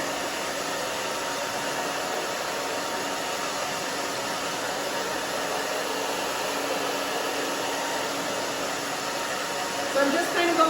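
A blow dryer drying short naturally curly hair hums and hisses steadily and close throughout, with a faint bump of handling noise near the end.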